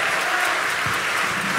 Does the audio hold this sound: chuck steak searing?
no